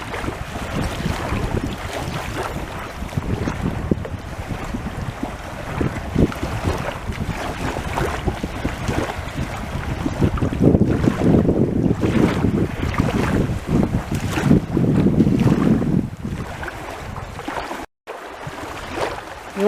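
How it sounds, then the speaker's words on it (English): Strong wind at Kashishibog Lake, Ontario, buffets the microphone in heavy gusts, with a rushing roar that swells and briefly cuts out near the end. "It's awfully windy."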